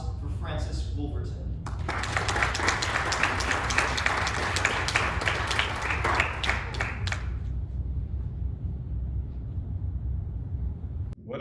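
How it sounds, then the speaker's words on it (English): An audience applauds at a tribute event for a long-serving colleague, with dense clapping rising near the start, holding for several seconds, then cutting off into quieter room noise. "please give a round of applause for Francis Wolverton"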